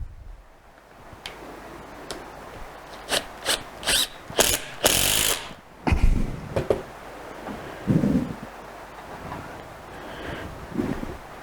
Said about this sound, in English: So put our first screw in here, just to trap everything down.